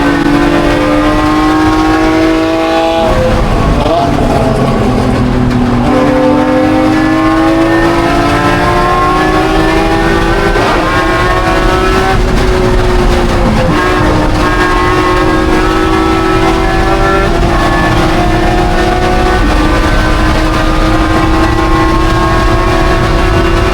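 Racing cars, including a Porsche Cayman, brake and accelerate on a circuit during a GLGT race at Circuit Legends 2025, engines droning loud and close with rising and falling pitch as they chase each other through a corner.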